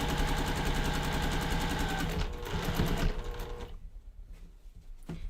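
Fast, steady mechanical whir and needle chatter of a sewing machine stitching quilt fabric, loud and close, then slowing and trailing off into quieter clicks near the end.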